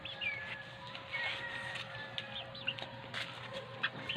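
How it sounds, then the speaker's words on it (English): Several chickens in a small backyard flock of seven on a rooftop deck garden cluck faintly and intermittently, with soft scattered calls over a quiet outdoor background. "I also have chickens. There are 7 of them."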